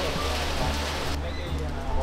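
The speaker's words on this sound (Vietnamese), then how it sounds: "ngày hôm nay mưa rất là lớn" Heavy outdoor rain pours during a singer's anniversary celebration event, a loud unbroken roar of falling water with a faint low hum running beneath it.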